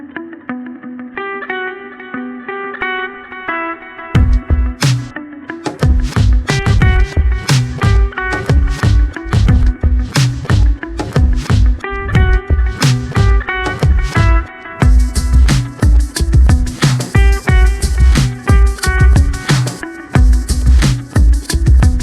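Drum loop generated by AI and then edited, with a guitar melody layered on top and processed through Shaper Box 3 effects. It plays loud and continuous with dense, punchy beats, with a quieter guitar-led intro before the drums enter.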